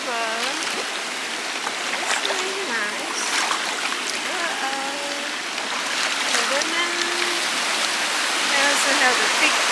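A big waterfall near Luang Prabang, Laos, a steady rushing roar of water throughout, with voices talking over it.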